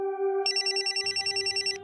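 A telephone rings steadily, a low tone joined partway by a bright, rapidly pulsing bell-like trill, loud and close with no talking.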